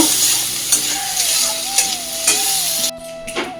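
Panch phoron spices crackle and sizzle in hot frying oil, a loud close hiss with periodic stirring taps, cutting off abruptly near the end before resuming faintly.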